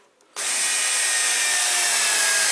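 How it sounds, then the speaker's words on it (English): A power drill whirs loudly and steadily, driving a screw at an angle into wood, starting abruptly after a brief quiet moment and holding a constant high-pitched buzz. "screws don't have to go in straight, so I'm going in at an angle with these"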